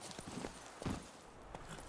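Roach, the horse in The Witcher 3, clops along in a quick, regular hoofbeat rhythm, fairly quiet and close, with a soft background hum behind the steps.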